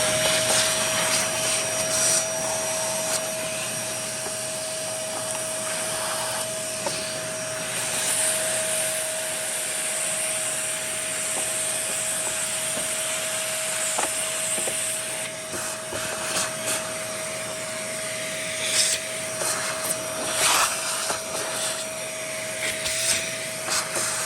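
An Everstar VC-9550 vacuum cleaner, dirty and clogged, running nearby with a steady, loud motor whine and airy rushing that holds constant throughout, with a few faint rattles and no talking.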